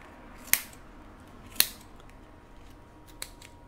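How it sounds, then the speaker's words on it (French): Scissors snipping lengths of yarn while crocheting a Christmas dachshund, three crisp separate cuts, the first two loud and close, the last softer, against a quiet room. "maintenant, je viens couper mes laines"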